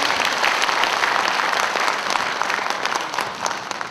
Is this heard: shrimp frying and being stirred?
no